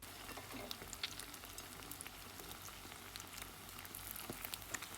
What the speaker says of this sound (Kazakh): нанымызды жұмыртқаға екі бетінде аударып алып, батырып, қызып тұрған майда қуырамыз